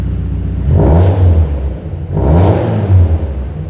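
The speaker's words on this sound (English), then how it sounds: "I'll see if I can get a little startup for you inside the car wash" A 2012 Subaru WRX STI with Perrin equal-length headers starts up inside a car wash, giving two loud bursts of engine rumble and revving that ring through the enclosed space with no talking.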